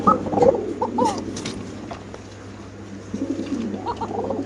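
Spanish pigeons cooing at a pigeon farm, several soft throaty coos close by over a low steady background hum.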